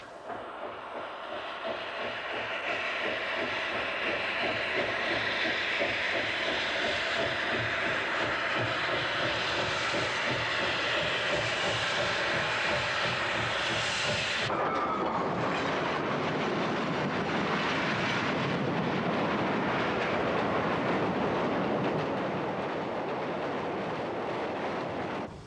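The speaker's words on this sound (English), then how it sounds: "3396 is leading the approaching freight" Freight train led by engine 3396 approaching, a loud steady rumble of locomotive and rolling cars that shifts to a clattering passage of wagons partway through, continuous and close.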